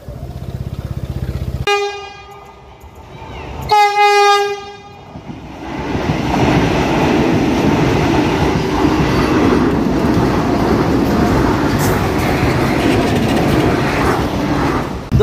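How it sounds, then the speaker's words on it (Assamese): Two long, loud train horn blasts, then the heavy rumbling roar of a train rolling in close by and continuing steadily. "क्योंकि रेल आने वाली है, ट्रेन"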